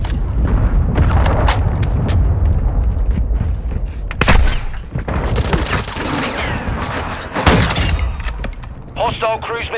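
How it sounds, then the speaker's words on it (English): Cruise missile blasts and heavy gunfire rattle through a Call of Duty MW2 match, with loud booming impacts at intervals amid rapid shots, and voices talking over the chaos. "Hostile cruise missile incoming."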